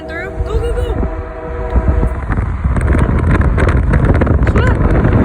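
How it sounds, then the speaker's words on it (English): A passing train heard by a railfan: broad continuous rumble and roar that builds and holds loud, with horn-like tones early on and children's excited voices over it. "Here goes the train."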